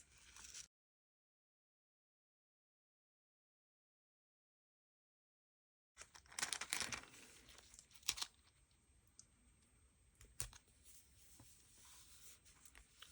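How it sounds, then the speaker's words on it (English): Small paper piece being cut out for a traveler's notebook: after a stretch of silence come quiet, close, scattered snips and paper crinkles. "So I'm going to cut out this little piece."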